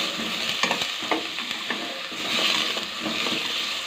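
Pork ribs for a bamboo shoot soup are stir-fried in a pan, giving a continuous close sizzle broken by scraping, rustling stirs.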